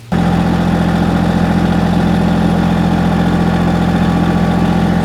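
A Massey Ferguson GC1725 compact tractor engine idles steadily and loudly nearby with a constant low rumble and no talk.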